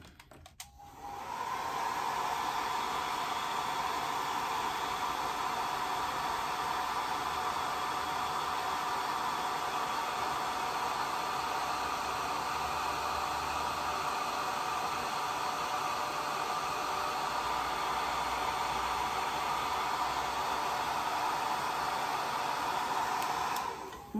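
A hair dryer blows a steady, loud, continuous whooshing hum over a watercolor painting of roses and mums, switching on after a brief click and running without pause.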